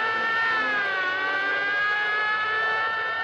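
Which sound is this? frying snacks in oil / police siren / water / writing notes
police siren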